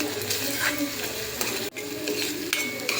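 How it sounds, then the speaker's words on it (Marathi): Ginger garlic paste sautéed in a pan for a gravy okra dish, a continuous close sizzle with stirring scrapes and a brief dip in the middle, no talk. "त्यानंतर आपल्याला घालायचे अद्रक लसणाची पेस्ट त्याला सुद्धा छान परतून घ्यायचं आहे"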